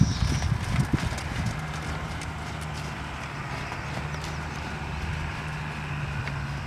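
A horse trots at a steady rhythm in a riding lesson, hooves clip-clopping on the ground at moderate distance, with a brief sharper burst of hoofbeats near the start.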